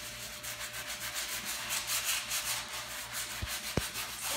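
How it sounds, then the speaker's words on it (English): A sander scrubs an oil stain off a cement surface, a steady close rubbing, scraping whir with pulsing texture and a couple of sharp clicks near the end, no talk. "This is a sander, and then just start scrubbing it, and it will remove the stain."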